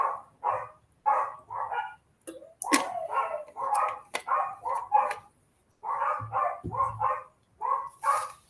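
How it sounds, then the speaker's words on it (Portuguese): A dog barking repeatedly at a distance, rhythmic bursts of two or three barks in quick clusters separated by short pauses, moderately loud over an otherwise quiet background. "Tem um cachorro latindo."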